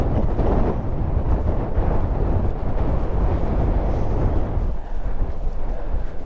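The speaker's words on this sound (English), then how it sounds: "Too windy for me." Strong wind on the coast at Yellowcraig Beach near North Berwick, a loud, continuous low roar of gusts battering the microphone throughout, with no voices.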